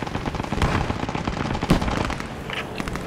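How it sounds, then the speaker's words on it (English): Machine gun fire in the WWII video game Post Scriptum, rapid bursts of loud cracking shots at mid distance, uneven and overlapping, amid battlefield clutter. "Machine gun to the due south."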